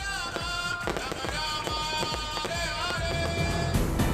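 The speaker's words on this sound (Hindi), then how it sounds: "शानदार आतिशबाजी से रोशन हुआ मंदिर" Fireworks burst over the Chandrodaya temple at the close of a three-day Kartik festival in Mathura, a rapid series of loud cracks and pops against a dense festive crowd din with music, continuous and fairly close.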